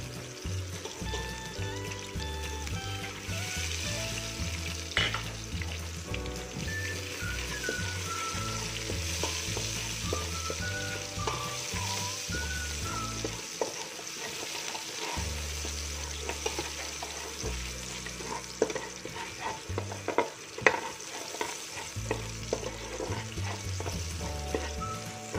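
Onion frying in a pan for patatim, Filipino-Chinese braised pork leg: a continuous close sizzle with occasional stirring scrapes over background music, no talk.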